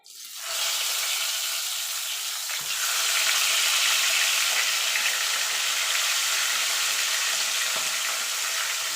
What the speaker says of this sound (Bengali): আমি কড়াইতে তেল দিয়ে দিয়েছি মাছটা ভাজার জন্য এবার এক এক করে মাছগুলো দিয়ে দেবো